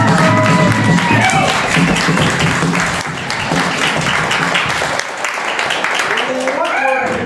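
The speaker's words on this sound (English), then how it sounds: "Give yourself a round of applause. Keep it going." Loud, sustained clapping and applause from a live improv comedy audience, with whoops and cheers in the mix and a voice rising over it near the end.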